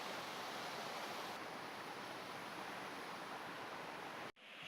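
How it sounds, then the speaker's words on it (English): A small, low waterfall spilling into a swimming pool along the Appalachian Trail gives a steady, even rushing of water that continues alone and then cuts off abruptly near the end. "Not a real high falls, but it sure is pretty"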